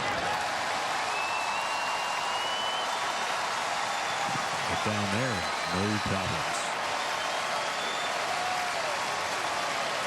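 Sold-out crowd at a Cubs baseball game at Wrigley Field against the Marlins on July 4, keeping up a steady wash of cheering and applause throughout, with a commentator talking over it.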